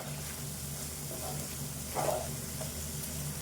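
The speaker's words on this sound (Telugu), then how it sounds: "ఇదంతా వేగాలి" Goat liver curry sizzling in a pan, a steady low frying hiss with a faint hum underneath and a brief brighter burst of crackle partway through, fairly quiet throughout.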